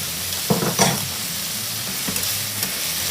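Prawns and squid fry in a pan for creamy seafood pasta, a close, steady sizzle with a couple of stirring scrapes early on, no talking.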